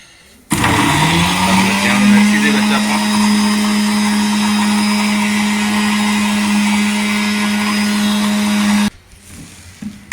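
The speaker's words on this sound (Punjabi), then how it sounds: "ਫਿਰ ਆਪਾਂ ਇਹਨੂੰ ਮਿਕਸੀ ਤੇ ਲਾ ਦਿੰਨੇ ਆ" A mixer grinder starts abruptly and whirs loudly at a steady pitch for several seconds while grinding chutney, then cuts off.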